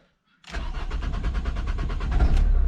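An Ursus tractor engine cranks over after a replaced ignition switch, then fires into a rough, pulsing run that grows louder, close by, with no talk.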